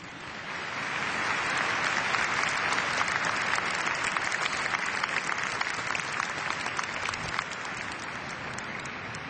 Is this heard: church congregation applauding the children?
yes